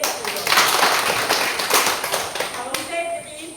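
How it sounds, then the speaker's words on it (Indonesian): A classroom audience gives Yogi and Fitri a short round of applause, a dense patter of clapping hands that swells and then thins out. "jadi tepuk tangan untuk Yogi dan Fitri"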